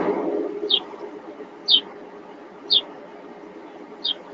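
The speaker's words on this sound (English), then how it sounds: "It's got birds in the background." Birds chirp four times at a steady, evenly spaced rhythm, short high calls over a low background hum, some distance away, heard through an online meeting call.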